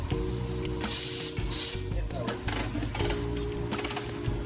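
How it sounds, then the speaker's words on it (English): Bursts of loud hissing compressed air from an air gun blowing debris in short blasts during brake replacement on a 2007 Ford Focus, with mechanical clatter in between. "Get the air gun."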